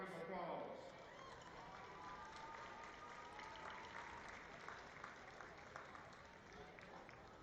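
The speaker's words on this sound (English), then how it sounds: "Let's give our young people a round of applause" A crowd at a high school football game claps steadily, a distant wash of applause spread across the stands that holds an even level throughout, with a voice over the public address briefly at the start.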